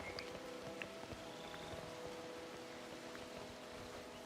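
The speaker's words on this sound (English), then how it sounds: "I don't know why it wants to freaking, start raining now of all the times." Rain falls steadily in the video game Disney Dreamlight Valley, a soft, even patter of drops with a faint tonal game ambience beneath and no speech.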